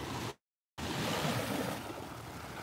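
Surf washing onto a Gulf Coast beach near Fort Myers, a steady broadband rush of breaking waves with wind, cut off by a short gap of silence and then continuing loud and close with no talking.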